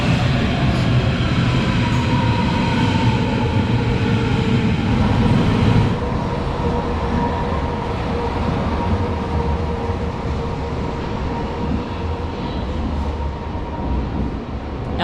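A passenger train rolling through Berlin gives a loud, steady rumble of wheels and carriage noise from inside the car, the low roar easing slightly after six seconds while rattles and faint squeals continue.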